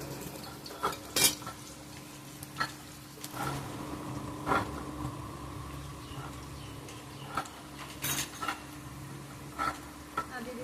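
Potatoes frying in a hot kadai give a soft steady sizzle, punctuated by sharp clinks and scrapes of a spatula stirring against the metal pan at irregular intervals.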